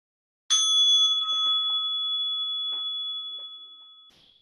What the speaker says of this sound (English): Now we'll ring the bell to signal